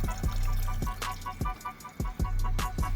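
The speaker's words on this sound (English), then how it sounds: "You hear that water pump?" A BMW 335i's water pump runs during coolant bleeding after the pump and thermostat were replaced, giving a steady churning, watery whir with a rhythmic pulsing thump about twice a second, close up and alone.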